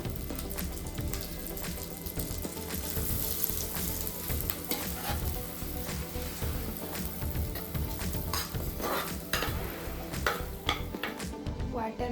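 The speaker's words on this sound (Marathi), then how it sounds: "कढई ठेवली आहे. किंचितसं तेल टाकलं आहे, म्हणजे वाटण परतण्यासाठी थोडं तरी तेल पाहिजे ना" A ground paste of onion, tomato, garlic and ginger fries in a little oil in a clay kadhai, giving a dense, constant sizzle with repeated stirring scrapes and spatula taps close by.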